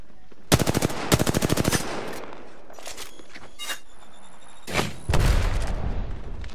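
Video game gunfire in an arena shooter: bursts of rapid automatic fire, close and loud, in several short volleys with quieter gaps and scattered single shots between.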